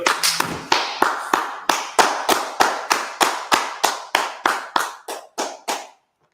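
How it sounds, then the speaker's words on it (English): A church congregation claps in unison, about fifteen sharp, even claps that echo in the room. The claps slow and grow quieter until they stop, with no talking. "All right, let's go ahead and clap it up."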